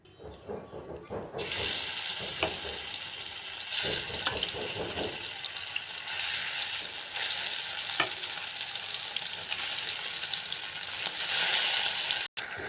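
Prawns dropped into hot oil in a pan, a quiet start giving way to a dense, steady hiss of frying that holds for most of the stretch, close and even, with a few faint clicks and no speech.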